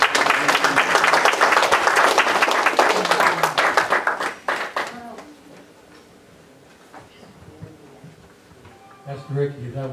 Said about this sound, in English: Clap your hands and bless God.